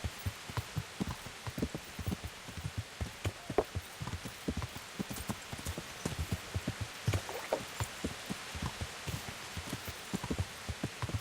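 Video-game horse hooves clip-clop in a quick, steady rhythm throughout, moderately close, over a faint rainy hiss with no talking.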